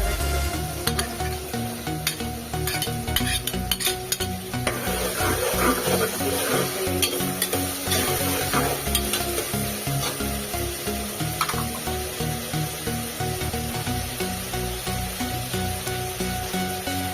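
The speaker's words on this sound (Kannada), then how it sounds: "ಇದನ್ನ ಮಿಕ್ಸ್ ಮಾಡ್ತಾ ಇದ್ದೀನಿ." Browned onions for egg biryani sizzle steadily in a pan, with repeated scraping and stirring strokes of a spoon close up throughout.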